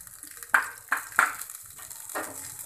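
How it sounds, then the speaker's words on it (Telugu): Green chillies fry in a pan for a water amaranth chutney: a few sharp spattering bursts crackle over a low, steady sizzle, close by, with no talking. "పచ్చిమిర్చి వేస్తున్నప్పుడు మన మీద తోలుతుందండి, కొంచెంగా మనము దూరంగా ఉంటూ ఫ్రై చేసుకోవాలి."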